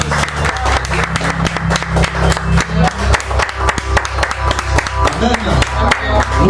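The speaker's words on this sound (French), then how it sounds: "Acclamons pour le Seigneur." A church congregation claps rhythmically in unison, loud and close, with fast even beats continuing throughout while voices call out over the clapping.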